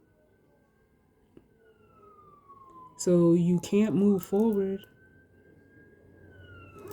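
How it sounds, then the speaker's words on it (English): Faint, distant siren wailing in slow rising and falling glides throughout, with a person talking over it briefly in the middle. "Take the sirens as confirmation."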